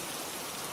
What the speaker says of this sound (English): when the rain is pounding against my windows and the wind is howling